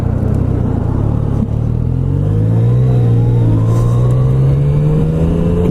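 A 2017 Yamaha MT-09 motorcycle accelerates hard with its quickshifter, the engine note rising steadily in pitch through a continuous loud roar, close to the rider, with a brief dip near the start.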